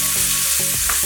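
Tomato with chili powder sautéing in a pan for noodles gives a dense, steady sizzle with a few quick stirring knocks over a short stretch, under a musical backdrop.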